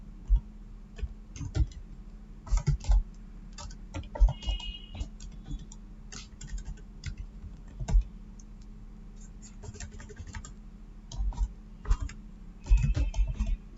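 Keys clatter on a computer keyboard while entering company names into an Excel spreadsheet, coming in irregular bursts of close clicks and taps separated by short pauses over a faint background hum.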